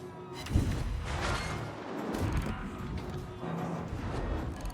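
Heavy naval gun salvos in World of Warships from the Japanese cruiser Azuma, deep booming blasts rolling out in a few waves with mechanical rumble between them, loud and close with no talk.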